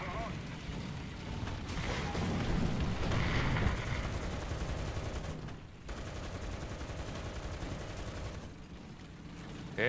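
Artillery fire in the tank combat game War Thunder, dense continuous booms and gunfire rumbling loudly throughout, with a brief dip midway.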